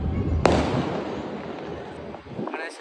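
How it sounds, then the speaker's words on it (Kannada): Firecrackers bursting across a residential neighbourhood in Bengaluru during the Ganesh festival, with one sharp nearby crack followed by a dense, continuous wash of crackling and popping from all around. "ನಮ್ಮ ಏರಿಯಾ ಫುಲ್ ಬರೀ ಪಟಾಕಿ"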